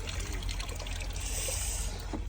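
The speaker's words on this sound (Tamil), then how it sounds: "இப்போ தானே வடியுது தண்ணி." Steady trickling water drains continuously, a soft dribbling flow with a low rumble underneath, no voices.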